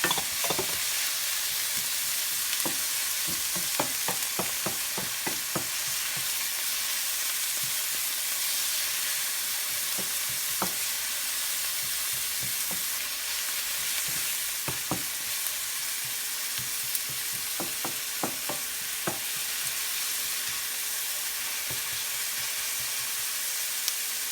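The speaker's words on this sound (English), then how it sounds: "And we're going to saute that up" Chopped onion sautés in a pan with a constant loud sizzling hiss. Scattered clicks and taps of stirring come in clusters over the frying.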